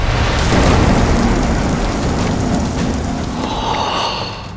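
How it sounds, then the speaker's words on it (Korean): Heavy rain shower pounding down in a dense, continuous roar, with low thunder rumbling beneath, loud and close, easing slightly toward the end. "소낙비가 우다다다다다 떨어지더니 막 천둥 번개가 내리치고"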